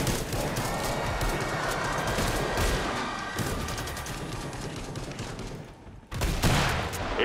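Rapid bursts of gunfire in the wave-based zombie shooter Killing Floor 2 crackle almost continuously, dense and loud with overlapping shots and booms, briefly dropping out near the end before resuming.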